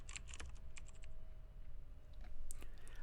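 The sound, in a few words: typing a formula on a computer keyboard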